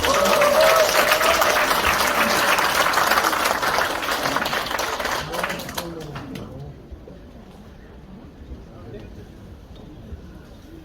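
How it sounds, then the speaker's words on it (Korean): An audience at a book talk event in a workers' cultural center applauds in a steady round of clapping that tapers off after about six seconds, leaving a quiet hall. "박수 한번 주세요."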